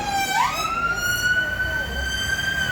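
An ambulance siren wails nearby in town traffic, a clear rising and sustained tone over road rumble.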